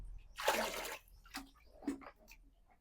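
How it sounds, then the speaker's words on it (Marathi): Tap water runs into a bucket indoors for a water heater trial, heard as a fairly faint gush of splashing followed by a few shorter splashy bursts. "तर मित्रांनो ट्रायल साठी म्हणून फक्त एवढी बार्डी भरत आहे मी."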